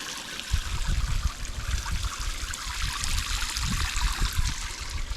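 A bush shower at a creek campsite pumps out water, a steady close trickle and splash that runs continuously with small bursts, with no talking.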